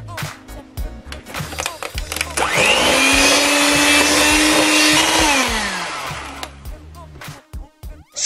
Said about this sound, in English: Mix them on low speed, getting rid of lumps if any.